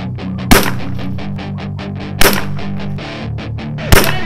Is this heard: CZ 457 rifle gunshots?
yes